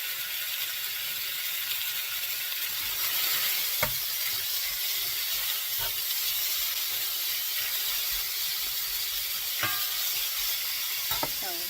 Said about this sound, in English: So I'm going to put in about half of this pork because I want to put a good brown on it